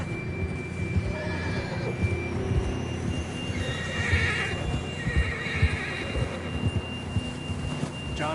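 A horse whinnies while hooves clop in an uneven rhythm close by in the video game Red Dead Redemption 2, with a thin steady tone humming underneath.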